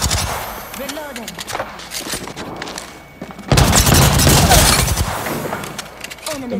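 Gunfire in the video game Apex Legends: rapid bursts of shots and booms crackle through the clip, growing denser and louder in the second half, while players talk over it.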